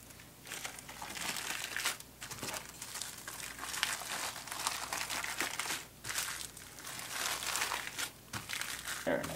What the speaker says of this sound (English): We'll wrap it up tighter this time.